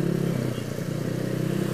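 Road race motorcycle with a 130 cc engine, 54 mm piston, stock valves and stock exhaust header, running with a steady close engine drone and some clatter throughout.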